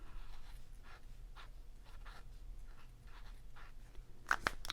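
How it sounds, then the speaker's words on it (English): A glue pen traces around a paper die cut, making faint, repeated short scratching strokes in a quiet room, followed by a brief sharp click near the end. "I like to draw around that die cut on the back side with the ink."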